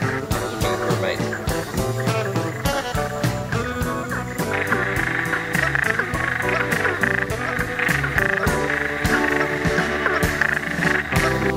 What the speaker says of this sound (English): A whole pool of ornate burrowing frogs looking for a mate.